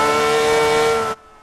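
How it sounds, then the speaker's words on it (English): Ferrari F50 V12 engine in the Forza Motorsport 5 racing game, a steady high-pitched mechanical whine held loud and close before cutting off suddenly. "Each car sounds different, but equally beautiful. Whether it's the Ferrari F50 V12 engine"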